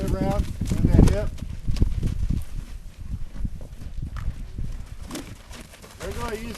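Horse hooves clip-clopping on the ground during a first test ride, with a rider giving loud instructions over them; the footfalls come in an uneven walking rhythm, mostly masked by the nearby voice.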